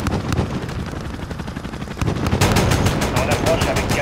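Rapid bursts of heavy automatic cannon fire from an attack aircraft in the Call of Duty Modern Warfare video game, loud and close, with a dense roaring rattle that intensifies halfway through.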